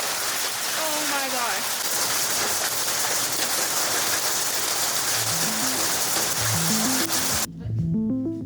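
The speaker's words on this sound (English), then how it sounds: "We are now caught in a hailstorm, and it looks awful." A hailstorm on a Himalayan trekking route near Mardi Himal makes a loud, dense, continuous patter of stones striking the ground. A voice sounds briefly early on, and melodic tones rise near the end.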